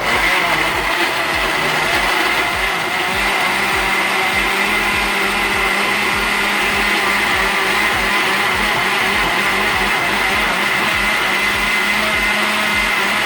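A blender on its chop setting whirs steadily and loudly through a green smoothie, a continuous motor drone with a choppy pulsing texture from the blades hitting chunks, holding for the whole stretch with no talking.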